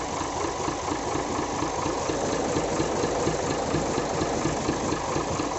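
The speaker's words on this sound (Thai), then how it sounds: "เสียงเครื่องนิ่มๆเลย" A Nissan NRR 195 truck engine idles smoothly, a steady, even mechanical chug heard up close at moderate loudness with no talking.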